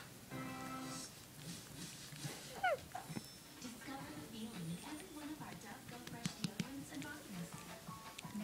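A dog whimpers and yips while playing with a ball, giving short high rising yelps and whines near the microphone over a soft rain-like patter, with a person talking to it throughout.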